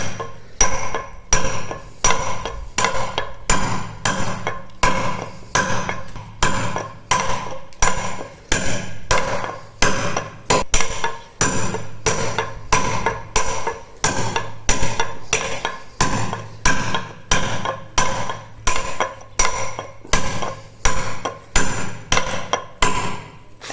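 A steel punch struck by a mallet chips into quartz-rich granite, producing loud, sharp metallic blows in a steady, fast rhythm of roughly two per second, close and continuous.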